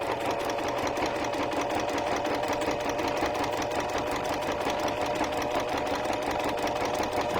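A sewing machine stitches ribbon onto a junk journal cover made from rescued scraps, running in one steady, loud, continuous whir with a fast mechanical rhythm and no talking.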